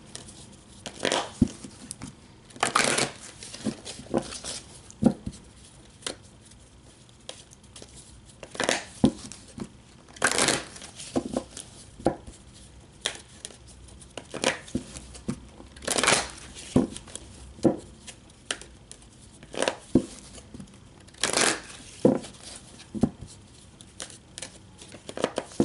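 Oracle cards being shuffled by hand for a reading, repeated close bursts of papery riffling and crinkling separated by quieter pauses, no talking.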